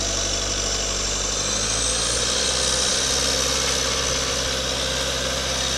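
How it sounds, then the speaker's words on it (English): Engine of a 2004 Vermeer SC60TX stump grinder running steadily, a loud, dense, continuous drone with strong low rumble and unchanging pitch, close by with no speech. "As you can see, it cranks right up."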